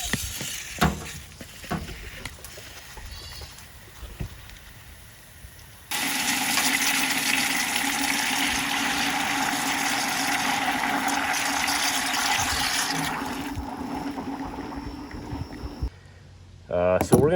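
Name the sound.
water flushing through blocked drain pipe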